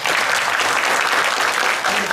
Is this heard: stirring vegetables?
no